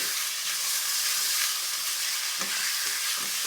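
Onions sizzle in a pan with a constant hissing crackle, close up and uninterrupted, no voices present.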